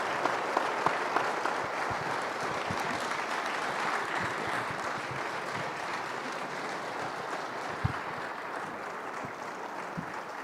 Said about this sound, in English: How about one more round of applause for the 24th head coach at Colorado State, Jay Norvell.